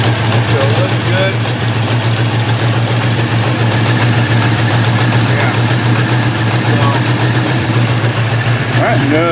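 Car engine with a TH400 automatic transmission idling steadily, a loud continuous low rumble with even vibration throughout, close to the microphone, with faint background noises on top.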